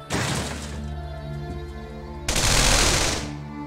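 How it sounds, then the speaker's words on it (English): Rapid machine-gun fire from Yak aircraft making strafing runs in Command & Conquer: Red Alert, two loud sustained bursts back to back, the second heavier and fuller, with no talking. "I can get both of my yaks now and start doing strafing runs on these guys."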